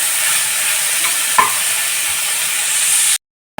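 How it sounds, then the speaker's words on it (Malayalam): Sliced onions cook in a pan with a steady, even sizzle that fills the clip, one brief clink midway, and no talking before a sudden cutoff near the end. "സവാള വേവിക്കാൻ വെച്ചേക്കാണ്"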